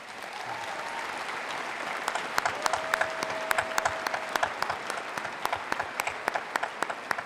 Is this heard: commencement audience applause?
yes